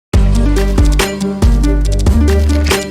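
A loud looping beat built from quirky Minecraft sound effects, with a deep bass pattern repeating underneath.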